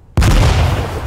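A grenade detonates in the Atom RPG video game, a single sudden loud boom after near silence, followed by a long rumbling decay.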